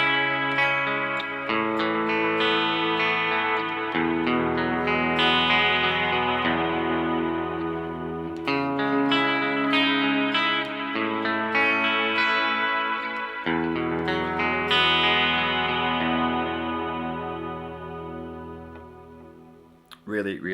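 Electric guitar played through a Strymon Cloudburst reverb pedal in its generic reverb mode, sustained chords and single notes blooming into a wide, washy tail that rings continuously and fades near the end, loud and alone.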